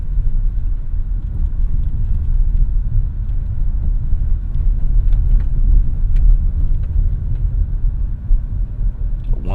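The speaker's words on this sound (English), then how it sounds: "You can hear a little bit more road noise." A 2024 Lexus NX 350 Hybrid drives over road bumps, heard from inside the cabin as a loud, steady low road rumble with faint thuds and no talk.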